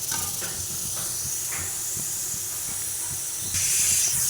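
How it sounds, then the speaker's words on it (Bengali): Small pieces of potato frying in hot oil, giving a steady sizzling hiss with faint clinks of a utensil, growing louder toward the end. "লাল লাল করে ভেজে নেবো আলুটাও"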